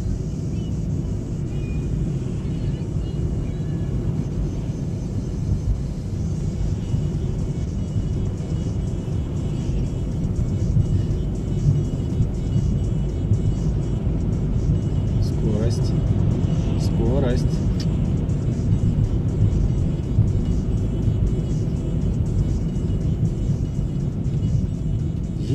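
A car is driven at a steady 60 km/h through city streets during a driving-test route, a continuous low road and engine rumble under occasional talk from people inside.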